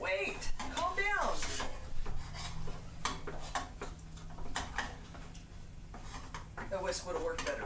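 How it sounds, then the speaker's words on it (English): A wooden spoon scrapes and taps flour clumps against the side of a pan of cream puff dough, a series of close, repeated ticking and rubbing strokes, with people talking over it. "I'm trying to squish them out with the wooden spoon against the side of the pan."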